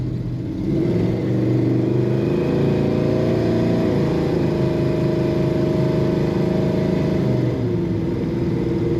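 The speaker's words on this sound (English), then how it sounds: "This car feels good on the road." A 1963 Plymouth Belvedere two-door post with a column-shift automatic drives on the road, its engine holding a steady, fairly loud hum that dips slightly in pitch near the end, with no talking.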